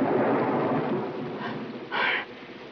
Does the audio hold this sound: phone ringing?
no